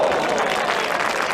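Spectators at The Open Championship 2019 golf tournament applaud a tee shot, a steady wash of clapping from a large crowd that lasts about a second and a half.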